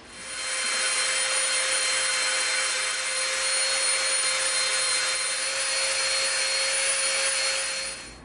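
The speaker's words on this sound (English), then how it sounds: "we're going to be dremeling the edge of this 6mm, and we're going to be dremeling the edge of the 18mm" A Dremel rotary tool grinds the edge of 6 mm EVA foam, a loud continuous high-pitched whir that holds steady for several seconds before stopping.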